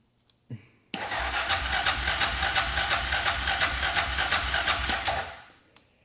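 A Suzuki Eiger four-wheeler ATV with a freshly replaced stator and spark trouble cranks and runs for about four seconds with a loud, steady, pulsing engine drone, then cuts off. Brief clicks come before and after.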